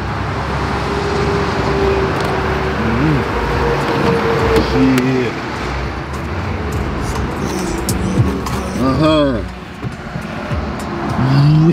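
Honda Accord with a VTEC engine running on the road, a steady engine and road rumble throughout with rising pitch sweeps as it revs, under intermittent voices talking in the car.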